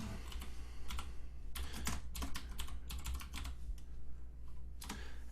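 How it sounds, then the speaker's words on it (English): Close typing on a computer keyboard, quick irregular bursts of key clicks with short pauses between words, steady and fairly quiet with a low hum underneath and no talking. "I'll type his name in so you can spell it."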